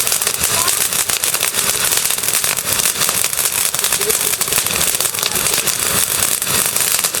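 Fireworks at an outdoor bonfire party make a dense, continuous crackling with rapid popping, loud and unbroken throughout.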